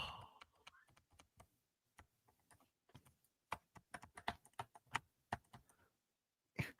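Computer keyboard keys pressed in irregular bursts, sharp close clicks and clacks with short gaps and a few quicker runs, fairly quiet in an otherwise silent room.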